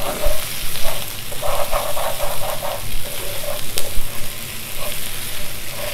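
Salted lamb (mutton) roasting in a pan, loud steady sizzling and frying crackle with bursts of stirring scrapes, close by and without talk.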